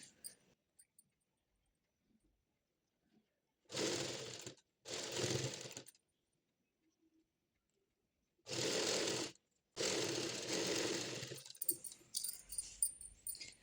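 A tailor stitches a patiala pant on a sewing machine, running it in short whirring bursts of about a second each, with quiet gaps between for folding the fabric and a light clatter near the end.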